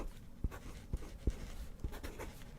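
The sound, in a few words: writing the name Pepsi Max on paper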